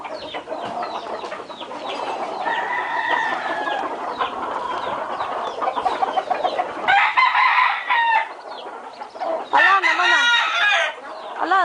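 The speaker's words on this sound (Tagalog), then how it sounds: "Yan pa isa, manok." Chickens cluck nearby on a farm while a rooster crows loudly several times toward the end, with bursts of people talking in the background.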